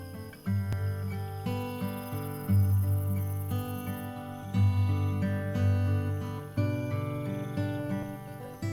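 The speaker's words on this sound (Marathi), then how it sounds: "रात्रीच्या अंधारात आता फक्त रातकिड्यांचा पहारा सुरू होता" Steady cricket chirping at night near a small village below Torna Fort forms a dense high-pitched chorus with overlapping tonal calls, persisting throughout without speech.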